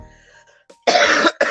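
A single cough, close and loud, cut into two harsh bursts by a short gap, after a brief stretch of faint tonal background sound.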